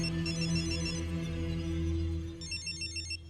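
A telephone rings in a Hindi film scene, a faint repeating electronic ring heard over a low, sustained musical drone.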